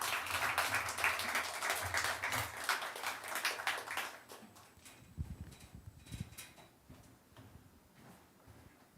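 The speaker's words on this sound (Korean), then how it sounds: "한 박수로 모실까요?" A church congregation at a sanctuary relocation thanksgiving service applauds, loud dense clapping for about four seconds that dies away, followed by scattered footsteps and thumps as someone comes forward.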